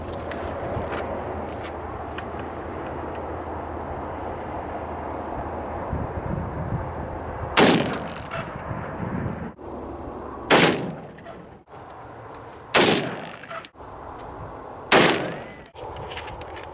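A 22-250 rifle topped with a Scorpion 4-16 scope fires four loud, sharp shots several seconds apart outdoors at a 25-yard target, each crack decaying quickly over steady background noise.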